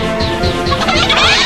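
Cartoonish chickens cluck continuously in the Chicken Invaders: Revenge of the Yolk space shooter game, a busy, steady clucking chorus with bright chirpy squawks mixed over game sounds, loud and close.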